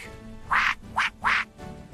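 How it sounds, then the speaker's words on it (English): Three loud, close duck quacks in quick succession, each a short nasal burst with a brief pause between, alone with no voices. "D is for duck"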